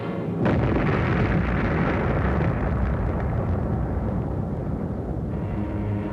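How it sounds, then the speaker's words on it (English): A long, loud, rumbling explosion of an object from space entering the atmosphere, roaring steadily with dense low-end energy and no pause, filling the whole stretch. "Trailing streams of fire, it broke into our atmosphere, and then came the explosion."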